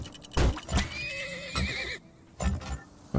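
A horse neighs loudly in the video game Turmoil, a rising, wavering whinny over a few rhythmic hoof-like thumps, close and clear with no talking.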